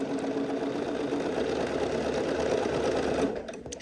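A sewing machine stitching all the way around a dress neckline gives a continuous, fast mechanical whir and rattle, close and loud, then stops abruptly near the end.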